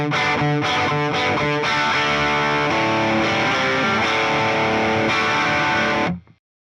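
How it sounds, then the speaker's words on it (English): Electric guitar played through a Fender Tone Master Pro emulating the Pugilist Distortion pedal: loud, sustained distorted chords and riffs ringing for about six seconds, then cut off abruptly. "Here's the Pugilist Distortion."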